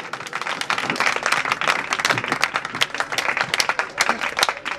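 Loud, dense applause from a crowd at a school farewell, graduation and annual function, steady clapping throughout with no pauses.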